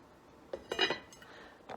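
Metal lids are set onto pots of simmering chicken broth, a handful of quiet clinks and clatters spaced over a second or so in an otherwise calm kitchen.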